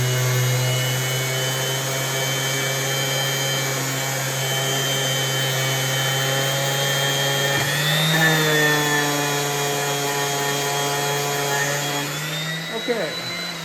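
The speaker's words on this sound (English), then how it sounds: "A little sanding and you're done." Steady power-tool whine with hum, likely a sander smoothing a wooden plug with 220 grit sandpaper, loud and continuous throughout, with a brief shift in pitch partway and a small knock near the end.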